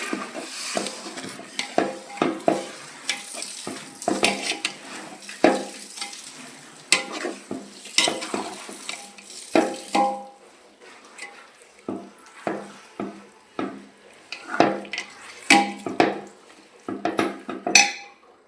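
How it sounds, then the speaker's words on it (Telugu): Jaggery and water are stirred in a pan toward syrup: repeated close metal scrapes and clinks of a spoon against the pan, with a faint bubbling sizzle and no talk. "ఇప్పుడు బెల్లం పాకం వచ్చే వరకు దీన్ని మొత్తం ఇలా కలుపుతూ ఉండాలి."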